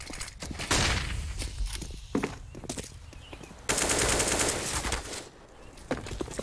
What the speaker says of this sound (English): Oh, he was shooting me.